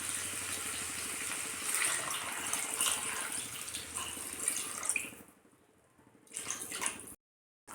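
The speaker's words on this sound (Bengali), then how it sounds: "এবার এর ভেতরে জল দিয়ে দেব।" Water poured into a pan of fried potato and cauliflower, a steady rushing splash that fades out, then a brief second burst before silence.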